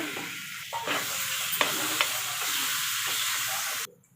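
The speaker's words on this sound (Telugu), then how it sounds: "మిక్సీ పట్టుకున్న పేస్ట్ని దీంట్లో వేసి బాగా కలిపేసుకోవాలి" Steady sizzling in a hot pan as ground paste is stirred into fried ivy gourd, with a few scraping stirs of a spoon, close and continuous, ending abruptly.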